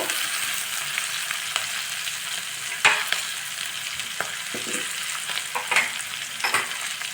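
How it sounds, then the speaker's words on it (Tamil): Capsicum softening in a hot pan for spicy capsicum rice, with a continuous sizzle and occasional spatula scrapes and clicks cutting through, close and steady with no voices. "இது பாருங்கள் கேப்சிகம் இருக்கும் இப்போது கொஞ்சம் லேசாக வதங்கிட்டுருக்கு"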